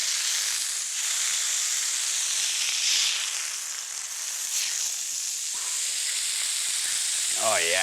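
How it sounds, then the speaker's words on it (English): Beef burger patties sizzle on a patio grill with a steady, bright hiss that holds throughout, and a brief voice comes in near the end. "Grilling up some burgers, sitting on the patio."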